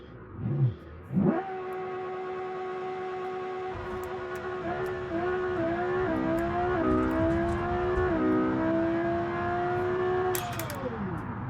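A twin-turbo Lamborghini Performante of about 2,000 horsepower starts with a short blip, then its engine holds a loud, steady high-pitched wail through a long acceleration pull with brief shift dips before the revs drop away at the end.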